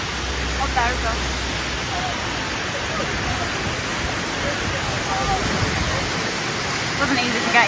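A waterfall at Ijen volcano gives a steady, broad rushing roar that fills the whole stretch with little change. Bits of faint voice are briefly audible above the water.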